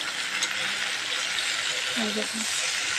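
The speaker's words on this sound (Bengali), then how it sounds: "আর একটু ভেজে লাগিয়ে নেব" A tomato fries in oil with salt, making a constant bright sizzle that stays close and even, while a few faint clinks and soft tonal sounds pass briefly beneath it.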